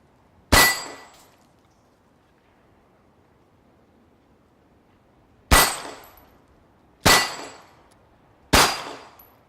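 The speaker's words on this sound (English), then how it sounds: "So you can see the gun is recoiling downwards." Four sharp gunshot-like cracks from a gun fired while held upside down, one alone then three more spaced about a second and a half apart, each loud and ringing briefly over a quiet background.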